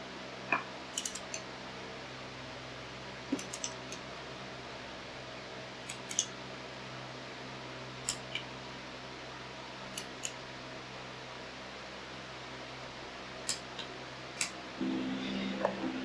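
A torque wrench tightens the handlebar pinch bolt on a 2021 Yamaha R1 to 24 foot-pounds, a series of small, sparse ratchet clicks over a faint hum, with a louder rustle at the end.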